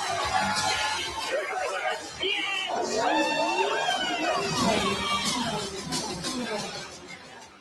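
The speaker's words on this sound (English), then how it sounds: "And you can hear the crowd." Outdoor crowd at a car unveiling event, a broad murmur of cheering and chatter with a voice talking over it, moderately loud and sustained.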